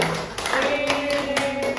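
A short burst of scattered clapping from students in a classroom, brief and fairly close, with light tapping mixed in.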